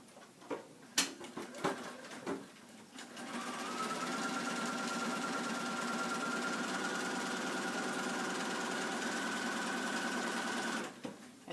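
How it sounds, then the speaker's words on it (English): A few clicks and taps, then a sewing machine runs in one steady, buzzing stretch of about eight seconds, stitching quarter-inch quilt block seams on either side of a center line, close up and with no talking. "going to sew on either side of your center line 1/4 inch"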